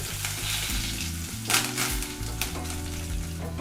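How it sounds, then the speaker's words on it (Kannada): Crushed garlic, curry leaves and dried red chilies broken in half fry in hot oil for curry leaf rasam, giving a steady close sizzle with a few louder stirring scrapes over a low musical backing. "ಇದನ್ನೆಲ್ಲ ಒಂದು 30 ಸೆಕೆಂಡು ನಾವು ಫ್ರೈ ಮಾಡ್ಕೋಬೇಕಾಗತ್ತೆ."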